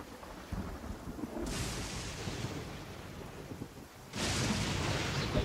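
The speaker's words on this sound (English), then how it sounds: "देखा कहीं पर भी गिर जाती बिजली." Thunder and lightning strikes during heavy rain in the video game Genshin Impact, with a steady rain hiss and two loud crackling thunder bursts, one early and a louder one near the end.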